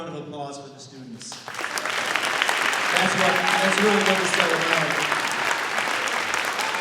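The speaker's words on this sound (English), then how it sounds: "how about one more round of applause for the students?" Audience at a junior high school concert breaks into loud applause for the students, rising sharply after someone speaks briefly, then sustained dense clapping with some cheering in a hall.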